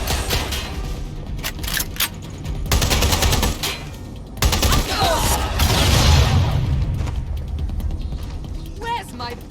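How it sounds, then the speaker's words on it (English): Gunfire erupts in the video game Watch Dogs Legion as a target shoots back, with bursts of rapid automatic shots and heavy impacts over roughly ten seconds. Voices shout over the shooting. "Target is firing!"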